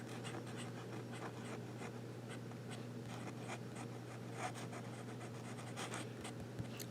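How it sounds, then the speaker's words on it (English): An italic fountain pen nib scratches across paper as it is pushed in reverse strokes, a faint, steady scratching with soft rhythmic strokes over a low background hum. "Reverse writing."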